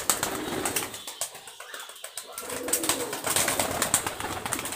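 A female Giribaz high-flyer pigeon among other birds, with repeated bright chirps and wing flutters over a busy outdoor background, fairly close and with no talking.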